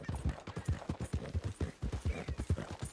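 A borrowed horse's hooves clip-clop in a steady, even rhythm of sharp close knocks, continuing throughout with no voices over them.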